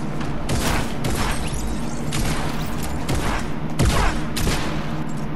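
Gunfire bursts from a Fortnite match, a revolver among them, come as loud repeated cracks and thumps. They run nearly continuously over a dense game soundscape, with a heavier shot near the end.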